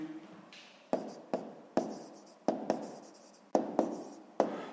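A pencil writes on paper for a sixth-grade maths exercise, a close, quiet run of regular strokes, each a sharp tap trailing into a short scratch, with no talking.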